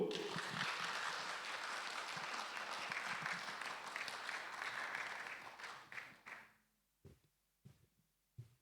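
A full room of people applauds a singer being welcomed onto the stage at a group gathering. The long, even clapping thins out and fades to silence, followed by a few faint knocks.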